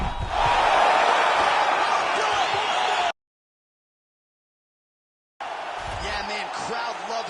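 Crowd roaring in the UFC 5 video game after a knockout finish, a dense loud cheer that cuts to silence, then returns with a commentator-like voice talking over it.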